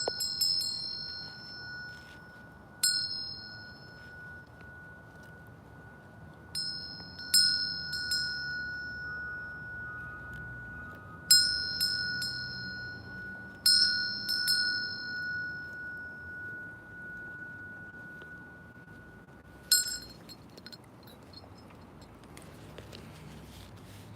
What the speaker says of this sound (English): So when we hear that sound, the sound of the bell, we remember to stop